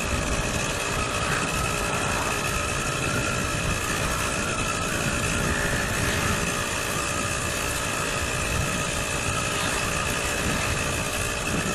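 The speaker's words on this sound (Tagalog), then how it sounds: "pinapakiramdaman at pinupulsan ko pa tong motor natin. Medyo pag nag-accelerate tayo, para siyang sinisinok." A Yamaha RS100 motorcycle engine runs steadily close by, a constant buzzing two-stroke drone with rough, uneven hiccups as it struggles on acceleration, heard alone without talk.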